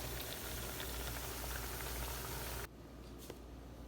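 Dumplings boiling in a pot of water for a Jamaican ackee and saltfish meal give a steady bubbling, sputtering boil that fills the first few seconds, then cuts to a quieter background with a faint tap.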